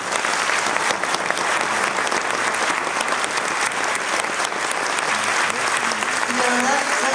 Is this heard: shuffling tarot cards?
no